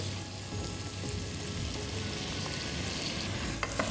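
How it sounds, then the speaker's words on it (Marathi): Onion and tomato cooking in a pan for prawn pulao, giving a steady close sizzle with stirring scrapes throughout and a couple of sharper clinks near the end. "कांदा आणि टोमॅटो पूर्णपणे शिजला गेला पाहिजे।"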